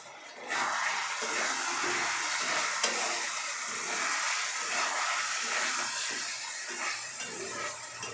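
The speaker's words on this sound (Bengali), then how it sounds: "দিয়ে দেবো টমেটো সস, আবারও সব কিছু একসাথে খুব ভালো করে মিশিয়ে নেব।" Chicken fried rice mixture with tomato sauce being stir-fried in a pan, a steady loud sizzle with scraping and tossing throughout, starting abruptly after a brief quiet moment.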